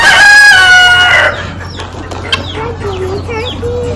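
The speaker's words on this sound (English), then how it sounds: "Guineas." Guinea fowl at a stockyard sale let out a loud, harsh, ringing call for about a second, followed by quieter scattered clucks and chatter nearby.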